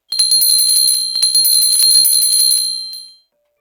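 Christmas bells ringing in a rapid, bright jingling trill, loud and close, continuing for about three seconds before cutting off.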